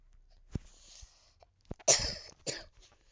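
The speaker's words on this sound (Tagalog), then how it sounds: "Sorry guys, may ubo ko." A few short coughs, nearby, including one harsher burst followed by another cough, with quiet pauses in between.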